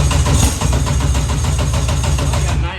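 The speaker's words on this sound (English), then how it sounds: "let me try and crank again" Jet boat engine with a K Series engine cranking as it tries to start: a loud, steady, rapid starter churn lasting a few seconds without catching, then cutting off.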